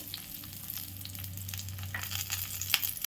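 Stuffed capsicum pieces sprinkled with salt fry steadily in hot oil, with a continuous close crackle and sizzle, a low steady hum beneath, and no voices.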